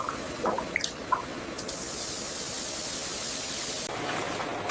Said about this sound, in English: The sterilized products are then cooled rapidly under cascades of chilled water.